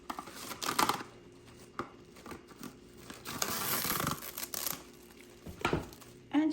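Plastic wrap is pulled, torn and pressed over bread dough, with bursts of close crinkling and rustling in irregular handfuls, quiet gaps between them.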